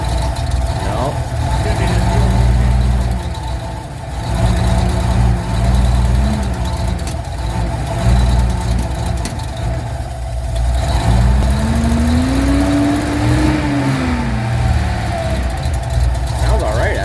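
A 1981 Datsun 280ZX, parked for nine years with electrical problems, idles steadily after starting, with the engine note rising and falling in a few revs. People talk over the running engine throughout.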